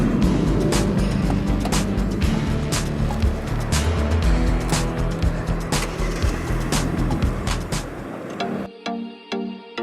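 A rental car driving on Tenerife, with a dense, steady road rumble and scattered sharp knocks that cut off to a much quieter passage near the end.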